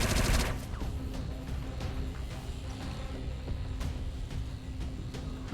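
Gunfire in the video game XCOM 2 opens with a heavy burst, followed by scattered sharp shots and impacts over a dense rumbling game soundscape.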